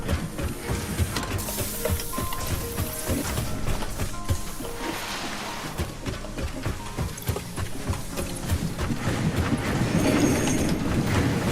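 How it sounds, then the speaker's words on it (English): A train in a factory-building video game rumbles steadily for several seconds. Dense, rapid clicks and rattles sit over a continuous low roar. "Back to the nuclear power plant to catch a train."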